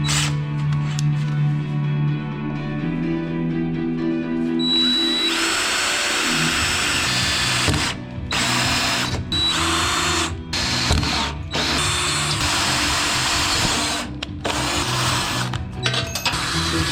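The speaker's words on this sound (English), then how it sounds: "we're gonna drill through the pinch weld" A power drill bores through the pinch weld of a BMW E36 car body, grinding in loud, sustained bursts broken by several short pauses, heard up close.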